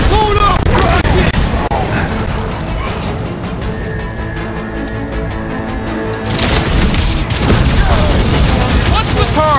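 Gunfire and explosions in the video game Marvel's Guardians of the Galaxy come as loud, sustained booming bursts and rapid shots, with character voices talking over the combat throughout.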